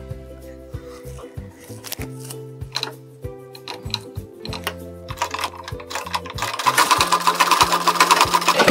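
A sewing machine works on a blouse seam, starting with slow, irregular ticking stitches and thumps, then speeding up into a louder, continuous whirr near the end.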